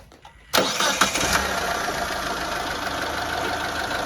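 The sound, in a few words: car engine starting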